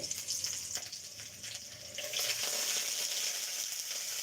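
Onion and garlic frying in a pan for lentil dal, a soft continuous sizzle with faint stirring, quiet and close, no speech.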